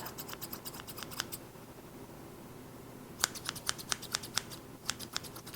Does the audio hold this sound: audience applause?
no